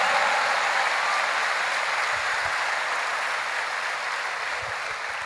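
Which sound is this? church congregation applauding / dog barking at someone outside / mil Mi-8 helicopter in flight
church congregation applauding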